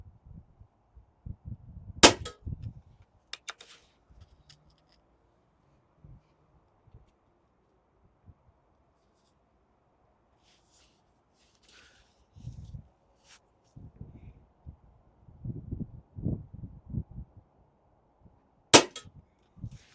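Air rifle shots fired at pellets over 30 yards: a few sharp, isolated cracks spaced far apart, with quiet handling noises and rustling between them and no speech.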